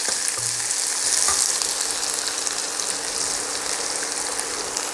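Urad dal fries in hot oil in a pan for a Karaikudi tomato chutney, a steady close sizzle with a brief stirring clink, while a voice speaks.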